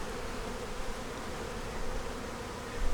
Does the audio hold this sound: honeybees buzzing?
yes